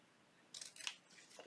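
Scissors trimming a strip of rickrack trim for a seed packet junk journal cover, with a few quiet close snips in quick succession over a hushed room.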